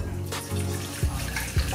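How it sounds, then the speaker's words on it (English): Boiling water pours from a pot in a home kitchen while spaghetti and meatballs are being made, a close, steady gurgling splash with a couple of brief bubbling lurches and no talk. "We're going to come over here now with some boiling water."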